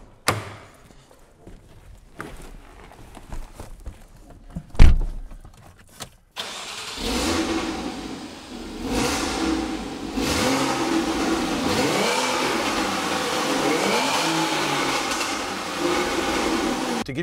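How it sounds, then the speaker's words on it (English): A 2014 Porsche Cayman, a luxury sports car, has a few soft clicks and thumps before the engine cranks and catches. It then settles into a loud, steady idle with several rising revs, recorded close up with no talking. "we'll go ahead and start it up so you get an idea what this thing sounds like"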